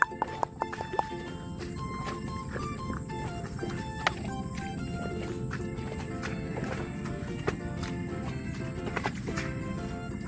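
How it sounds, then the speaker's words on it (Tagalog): A carabao (water buffalo) plods slowly with a rider on its back, its hooves thudding softly in an irregular clip-clop over a rural field, set against a dense outdoor background. "Sarap pong sumakay sa Kalabaw mga kaboks. Mabagal maglakad."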